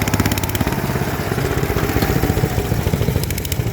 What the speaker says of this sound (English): Another little trusty there with a Jet 5 on it.